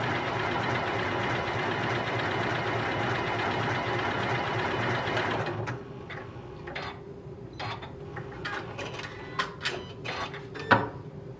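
A Janome Continental M6 sewing machine runs a steady, dense stitching whir for several seconds, then stops, followed by scattered clicks and small mechanical taps close by, with no voices.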